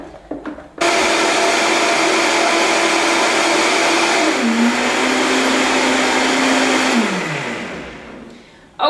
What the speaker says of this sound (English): I'm just gonna blend this nicely.